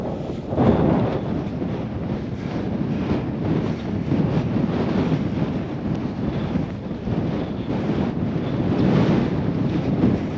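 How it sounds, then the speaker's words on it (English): Strong, steady wind on a mountain summit in the Cairngorms roars and buffets against the microphone, a continuous low rumble with gusty surges and no voices. "It's windy."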